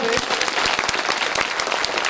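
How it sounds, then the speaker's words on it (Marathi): An audience at a felicitation ceremony claps loudly for two legislators, a dense continuous applause filling the space from start to finish, nearby and steady. "आपल्या सर्वांनी एक वेळेस दोन्ही आमदार साहेबांसाठी जोरात टाळ्या वाजवत आहे"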